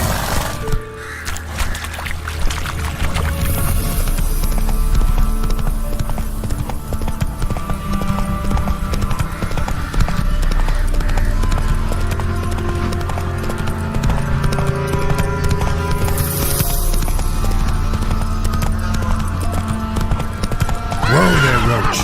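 Geralt's horse Roach in Witcher 3 gallops with rhythmic hoofbeats over game music and ambience, with a neigh and crow caws mixed in.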